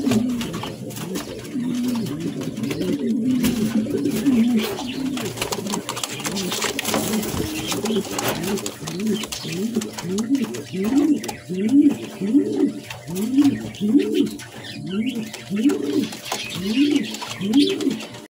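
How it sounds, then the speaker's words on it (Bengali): White Beauty Homer pigeons cooing in a loft, close and clear, with repeated rhythmic coos becoming steady and regular in the second half, over low background noise and some talk. "2 জোড়া হোয়াইট কালারের বিউটি হোমা রানিং পেয়ার"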